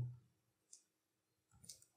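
A computer mouse clicks twice while a Java project is being set up in NetBeans IDE. The two short, faint clicks are about a second apart in an otherwise quiet room.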